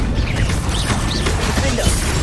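Incendio fire spell cast during Hogwarts Legacy combat: a loud, dense, whooshing blast with crashing, clattering texture, lasting a couple of seconds without any voice.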